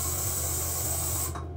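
Hairspray from an aerosol can of spray net hisses onto hair in one steady, close burst that cuts off near the end.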